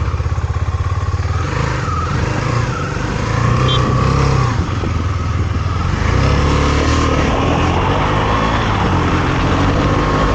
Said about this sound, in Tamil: முன்னாடி வண்டி வருது.